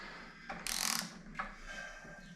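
A car gearbox gives off a faint mechanical clicking and grinding as the camshaft is turned over by hand, with one brief rasping burst and a few scattered ratchet-like clicks against a quiet background.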